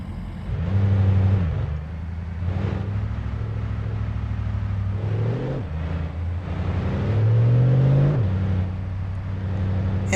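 A car drives along a park road in Glacier National Park and swings through a U-turn, its engine humming loud and close with rising and falling pitch as it slows, turns and accelerates away.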